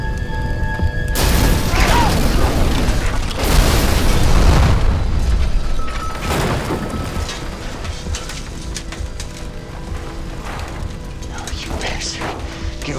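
A meth lab blows up in a TV crime drama: a heavy boom and rumbling blast fill most of the scene, then fade into a lingering low roar, with shouted voices over the chaos.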